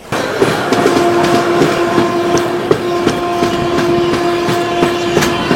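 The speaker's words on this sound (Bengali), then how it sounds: "তারপরই ছেড়ে দিল আমাদের ট্রেন" The Mithila Express, a passenger train on the Howrah to Raxaul route, runs on its rails with a loud, steady rumble heard from on board, a sustained tonal hum and rhythmic clickety-clack wheel beats.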